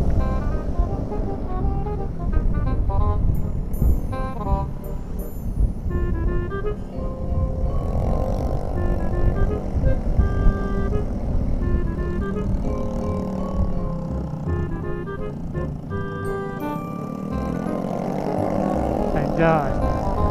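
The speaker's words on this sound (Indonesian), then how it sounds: "Knalpotnya pada bising" Loud motorcycle exhausts droning and revving during a Sunday morning group ride to Cidamar, steady rumble throughout with riders talking and shouting over the engines.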